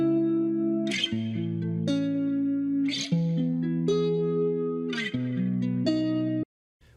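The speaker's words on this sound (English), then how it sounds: "Which has reverb and delay and stuff like that on it" Wet real guitar sample, played with reverb and delay, for a tropical chill house pack: sustained harmonic notes and chord changes roughly every second, loud and alone, with a lingering tail before a sudden cutoff.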